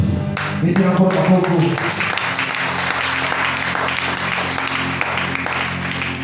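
A church congregation bursts into loud, sustained applause mixed with cheering voices, the clapping dense and close for several seconds before thinning into a steady crowd roar.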